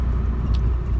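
Nissan 240SX S13 convertible driving, a steady loud engine drone and road rumble heard from inside the car.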